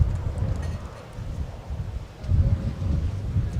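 Gusty wind buffets the microphone at Minneapolis–St. Paul Airport on a crosswind day, low rumbling surges that swell and ease, strongest near the end, with no talk over it.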